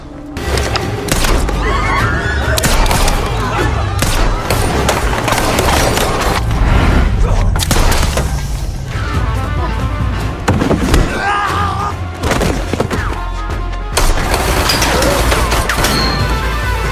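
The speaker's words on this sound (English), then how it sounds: "an intense and deadly battle sequence begins, wherein Kate uses her skills to shoot all the assassins sent after her" Gunfire rips through a movie battle sequence as a woman shoots down assassins, loud shots and crashes piling up almost without pause over a dense, cinematic mix for the full length.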